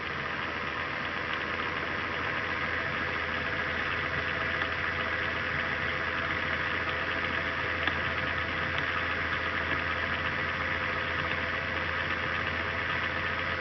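A Bedini SSG pulse motor runs with its timing advanced, giving a steady, continuous electrical hum and whir that holds evenly throughout, close and moderately loud with no talk over it.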